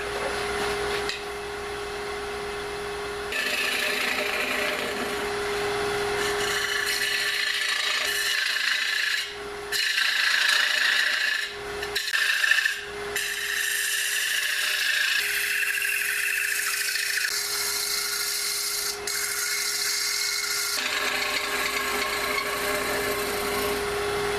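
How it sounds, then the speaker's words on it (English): Wood bowl on a lathe being turned with a sharpened Carter & Sons 5/8 inch bowl gouge, a continuous close whirring scrape with a steady motor hum and a few brief breaks in the cut. "I've got a sharpened Carter & Sons 5/8 inch bowl gouge."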